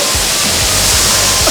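High-pressure water spraying in an automatic car wash, a loud, dense, continuous hiss close up with a low rumble beneath, heard briefly and alone.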